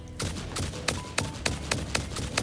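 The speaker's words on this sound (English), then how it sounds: "Can you hear me over the sound of these constant gunshots?" Rapid gunshots in a video game, sharp regular cracks roughly every third of a second over a busy background, fairly close and loud, no talking.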